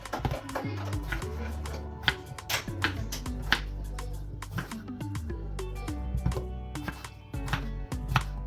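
Knife chopping potatoes into large pieces on a cutting board, irregular sharp thunks in quick bursts with pauses, close and clear, over low background kitchen sounds.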